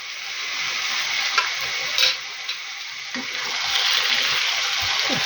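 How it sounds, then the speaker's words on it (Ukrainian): Mushrooms sizzle steadily in a frying pan as they are stirred, with close, continuous crackling broken by a few scraping clicks of the utensil; no one speaks. "так більш-менш на 3-4 хвилинки хай посмажуться ще грибочки"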